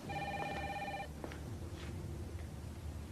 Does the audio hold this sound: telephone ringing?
yes